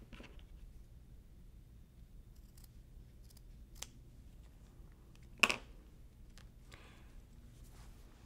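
Scissors trim quilting fabric with a single crisp snip and a few faint cuts and rustles in a quiet room.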